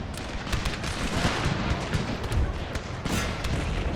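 Troops fire in a Thirty Years' War battle in Total War, a dense, steady crackle of distant musketry that rolls on without a break across the whole stretch.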